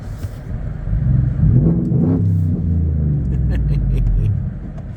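A car engine revs on a freezing morning as the driver gives it a little gas, a low rumble swelling in a smooth rise and fall before settling back to a steady throb.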